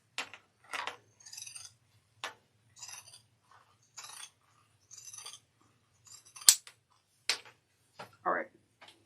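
Scissors trim the fabric edge of a Kandu bag in a series of short, crisp snips and clicks, spaced out and close, with quiet pauses between them and brief talking in places.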